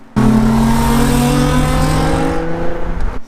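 An Infiniti G35 built into a drift car roars past at close range, its engine note loud and steady before quickly fading away.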